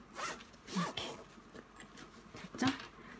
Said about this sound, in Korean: 이렇게 지퍼를 열어보면 안에 지퍼 파우치가 또 들어있는 형태